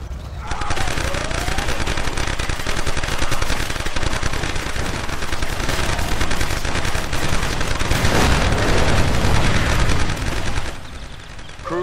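Dense tank gunfire and explosions from a battle in C&C Generals Zero Hour, PLA tanks under fire: continuous loud rattling bursts and rumbling booms that swell near the end and then cut off abruptly.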